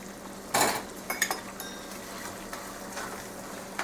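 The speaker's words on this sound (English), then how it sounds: "As you add it, you stir to make sure everything is nicely coated with those spices." Ground spices such as coriander powder being stirred into samosa filling in a pan, heard as a sharp spoon-on-metal clank followed by a few lighter scrapes and clinks, close and alone, with no talking.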